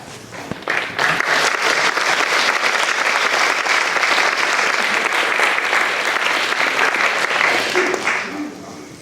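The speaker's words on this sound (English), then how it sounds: "I think this was well-deserved applause" Audience applause after a conference panel discussion, a dense, steady clapping from a sizeable room that starts abruptly, holds evenly for about eight seconds and then tapers off at the end.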